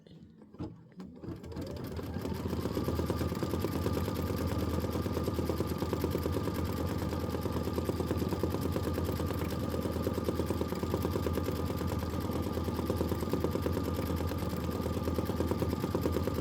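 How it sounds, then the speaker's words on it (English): An Aveneer embroidery machine with a 6x10 hoop stitches OESD's Boo Manor tile design. After a brief start-up it settles into a loud, steady, rapid mechanical needle rattle that runs unbroken, with no voices. "This is 2 minutes of stitching."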